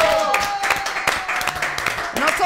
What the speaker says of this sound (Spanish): ¡Aplausos, Andrea!